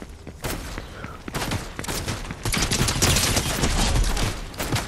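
Gunfire in a video game firefight against a human team, dense overlapping bursts and single shots crackling continuously and growing louder in the second half, with no clear talk over it.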